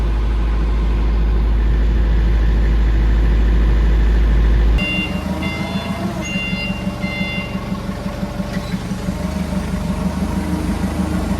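Denyo 30 kVA diesel generator idling while cooling down, a steady close mechanical drone that shifts after a few seconds into a rhythmic chugging idle with faint ticking.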